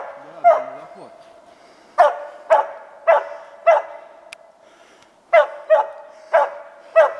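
A hunting laika barks repeatedly outdoors during a hunt, sharp loud barks in uneven bursts with pauses, close to the listener, with a few softer whines between.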